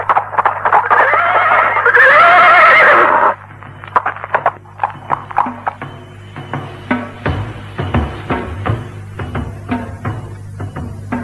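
A horse neighs loudly in a radio drama sound effect, a shrill whinny lasting a few seconds, followed by quieter clip-clop and rustling sounds.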